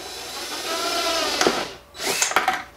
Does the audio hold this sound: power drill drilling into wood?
yes